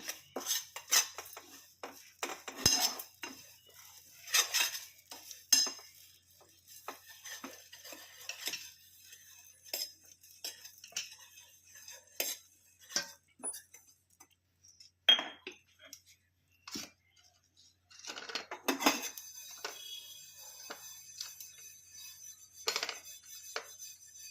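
Spices are lightly dry-roasted in a pan for mukhwas, with a spoon stirring them and making repeated small clinks and scrapes against the metal, fairly quiet with brief pauses between strokes.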